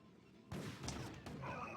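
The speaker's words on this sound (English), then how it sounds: "Still hear a couple of explosions." Explosions from a StarCraft Brood War match on the Glacial map burst in a dense, rumbling cluster, swelling suddenly and staying loud with a second hit partway through, no voices present.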